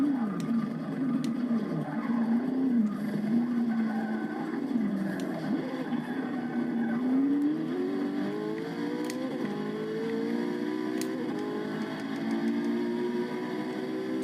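Race car engines at Spa Francorchamps in Forza Motorsport 6 drone continuously, the revs climbing and shifting through gears, with a few sharp clicks over the steady engine note.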